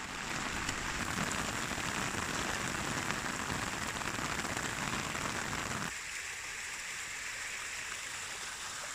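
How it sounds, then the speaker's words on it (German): Steady rain falling on a bridge over a river in Spain, a dense even hiss of drops close by, loud at first and then slightly softer and thinner after a few seconds, with no voices. "Auf der Brücke fängt es nun richtig an zu regnen."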